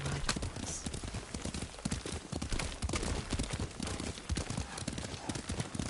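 Horse hooves clip-clop steadily at a trot in the samurai video game Ghost of Tsushima, a continuous near rhythm of hoofbeats with occasional game voices beneath.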